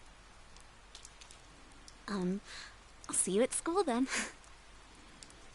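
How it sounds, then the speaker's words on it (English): Steady rain in the video game Persona 4 Golden patters in the background throughout while a person speaks a short line over it. "Oh, it's raining."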